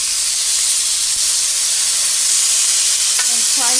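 Marinated fajita meat sizzles and hisses steadily in a hot cast iron pan, a loud, dense frying crackle that holds throughout, with a brief clink of a utensil near the end.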